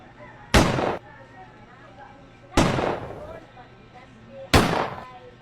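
Three sharp, loud gunshot bangs ring out at regular intervals about two seconds apart as a sound effect in a hold-up skit, each one trailing off in a short decay.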